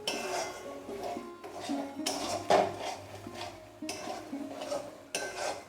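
Chicken curry in a pan as Kashmiri chili powder is mixed in, heard as repeated spoon-on-pan scrapes and clinks in bursts over a soft musical background, no talking.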